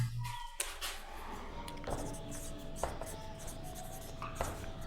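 Pen strokes on paper as someone writes out an English grammar note by hand, heard as soft, close scratching in short bursts with brief gaps, quiet and with no one talking.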